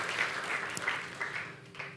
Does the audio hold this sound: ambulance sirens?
no